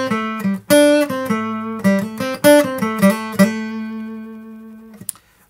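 Acoustic guitar picked with a Flow pick in a lively melodic run, bright plucked notes with clear attacks, ringing out and decaying at the end; no voices.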